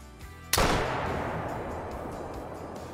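A single booming .470 Nitro Express elephant rifle shot in the Call of the Wild hunting game, a sharp loud crack followed by a long rolling echo that fades slowly.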